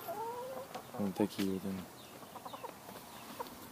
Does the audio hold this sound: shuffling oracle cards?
no